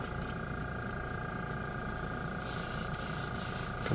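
An air compressor runs steadily with a fixed mechanical hum during car spray painting, then sharp hissing bursts of spray cut in, pulsing several times near the end.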